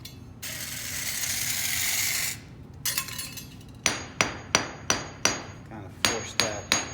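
A hammer taps repeatedly in a steady rhythm on a concrete floor crack being filled with epoxy, sharp close knocks after a brief burst of rushing noise and a few scraping clatters.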